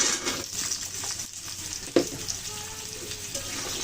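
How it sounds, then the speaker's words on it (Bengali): Pumpkin and potatoes fry in a pan with a steady close sizzle, broken by a few clacks and scrapes of stirring. "কুমড়ো দিয়ে একটু ভালো করে ভেজে নেব।"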